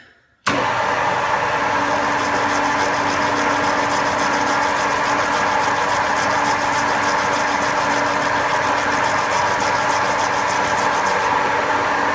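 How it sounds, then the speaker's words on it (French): A metal-lathe spindle runs steadily in reverse while a wire brush scrubs freshly cut threads, giving a continuous close, loud whirring hum with a constant tone and faint rhythmic rubbing throughout, and no one speaking. "pendant la marche arrière, je vais en profiter pour mettre un petit coup de brosse métallique"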